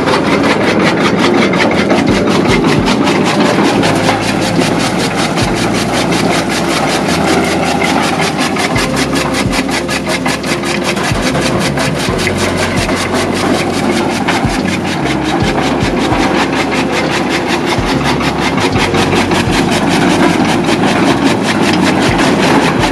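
A chaff cutter machine for chopping fodder runs steadily and loudly, a continuous mechanical drone with rapid rhythmic chopping and grinding, heavy low rumble throughout, no talk.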